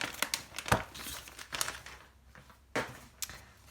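Crinkly plastic wrap on a Prima surfboard-collection paper pad being handled and opened, with repeated sharp crackles and rustles close by, nothing else in the background.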